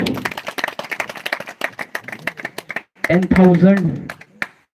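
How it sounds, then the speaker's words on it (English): Crowd claps at a live cricket player auction, a run of uneven claps and taps for a few seconds before a voice speaks loudly over a brief pause and the clapping fades. "big round of applause"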